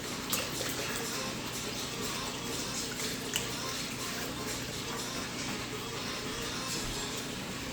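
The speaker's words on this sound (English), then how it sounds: "I'm just washing my hands" Steady running water from a tap splashes over hands being washed at an outdoor spot, a continuous, fairly close broadband rush with faint drips and no speech.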